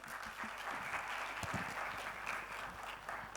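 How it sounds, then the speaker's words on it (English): Audience applause for student panelists at a school educational conclave, a steady crowd patter with a few sharper nearby claps standing out from the wash. "A round of applause for them, please."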